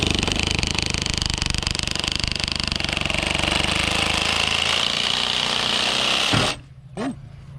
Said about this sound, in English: coming back with the sawzall, and he's gonna nip this part off